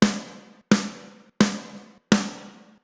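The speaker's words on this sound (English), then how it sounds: "this is the blend of the two snares from Drumforge, the 1123." Two Drumforge snare drum samples layered together hit four times in a steady, evenly spaced rhythm, each a loud punchy crack with a body tone and a decaying ring, with nothing else in the mix.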